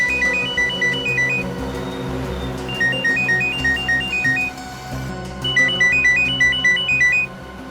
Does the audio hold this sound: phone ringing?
yes